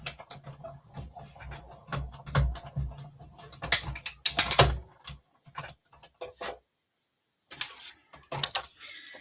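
A die-cutting machine rolls basic white cardstock through, producing a series of close, irregular mechanical clicks and ratcheting bursts separated by short quiet gaps.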